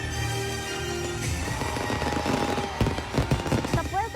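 Fireworks display at a giant Christmas tree in Balayong People's Park, Puerto Princesa, on a Monday night: rapid crackling bursts and sharp pops grow denser and louder over a steady crowd murmur, with whistling rockets near the end.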